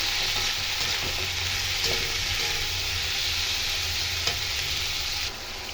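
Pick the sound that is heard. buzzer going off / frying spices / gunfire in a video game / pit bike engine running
frying spices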